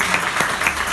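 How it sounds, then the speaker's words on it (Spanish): Live audience applause at a stage show, a steady dense clapping throughout the second at moderate loudness, with no speech over it. "Un aplauso para él."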